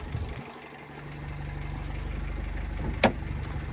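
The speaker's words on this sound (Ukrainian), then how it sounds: "Так працює Євро 5 мотор." A 2013 Renault Trafic van's 2.0-litre Euro 5 diesel engine idling nearby with an even rumble throughout, and a brief click near the end.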